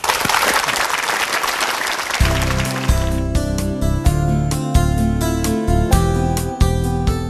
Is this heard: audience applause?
yes